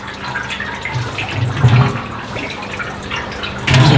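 Water drains and splashes out of a lobster boil pot basket outdoors, a continuous rushing gurgle with a few louder spills.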